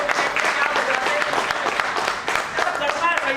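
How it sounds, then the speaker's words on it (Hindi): An audience at a network marketing training session claps in a dense, sustained burst that fills the whole stretch, with a voice talking over the applause. "जिसका मन कर रहा है एक बार जबरदस्त तरीके से ताली मार"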